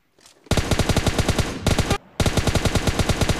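Rapid bursts of gunfire from a Kar98 and other weapons in PUBG Mobile Lite ring out loud and close, a long rattling volley followed by a short pause and another sustained burst.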